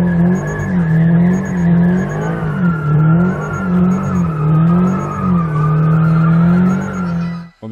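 A 2022 Subaru BRZ's engine roars close by while the tires squeal in a sustained, wavering screech that rises and falls as the car drifts, then cuts off abruptly.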